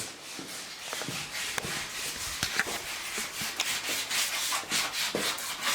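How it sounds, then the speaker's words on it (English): Hand sanding of wood while a house is prepped for renovation: continuous rough rubbing strokes in an uneven rhythm, close and moderately loud, with no talking. "another day for sanding"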